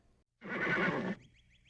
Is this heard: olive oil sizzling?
no